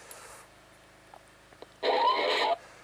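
An XM22 digital laser tag gun gives its start-up noise: a short electronic burst near the start, then a louder, bright, buzzing tone lasting under a second, alone with no talk, in a quiet room.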